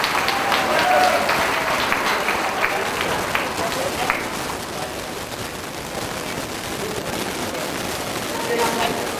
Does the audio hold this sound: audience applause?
yes